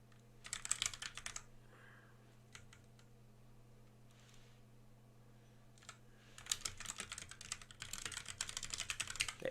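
Computer keyboard typing in quick bursts, close and fairly quiet, with a pause in the middle and a steady low electrical hum throughout; no one speaks.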